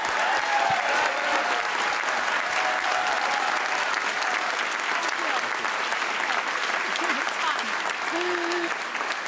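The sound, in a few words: audience applause for forum moderator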